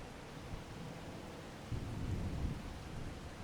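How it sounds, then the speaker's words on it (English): Steady rain hisses throughout in Farming Simulator 25 while a low thunder rumble swells partway through and lingers, with no voices. "You guys hear the thunderstorm."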